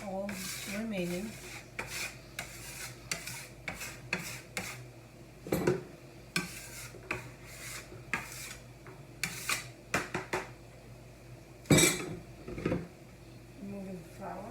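Hands scraping leftover dough and flour off a work surface while making katmer with leeks: soft, close rubbing and rasping strokes in an irregular rhythm, with occasional light knocks.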